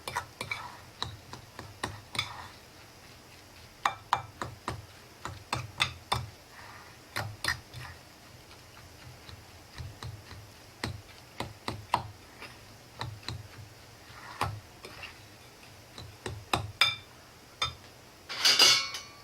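A fork stirs and mashes a meat filling with cumin in a bowl, giving irregular light clicks and taps against the dish throughout, fairly close with a faint room hum.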